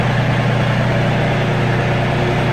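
A small tractor pulling a big mower runs its engine at a steady idle, a loud, close, continuous low rumble with a constant throb and no speech.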